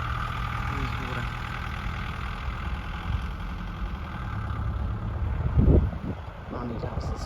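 A tractor engine idles nearby on a farm with a steady low rumble, one brief louder knock partway through, and people talking over it.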